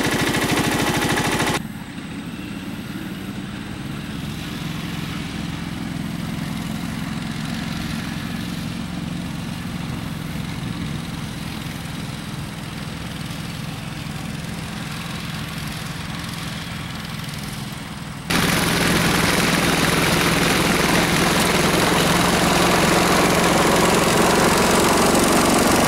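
A John Deere X485 lawn tractor with a Kawasaki engine runs steadily and close by. Its drone grows noticeably louder and harsher about two-thirds of the way through and stays there to the end.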